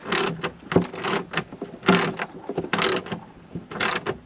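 Ratchet hand tool clicking in bursts as it tightens a bolt with lock and flat washers on a Slingshot front fender luggage rack, several rapid ratcheting runs separated by short pauses, close and clear.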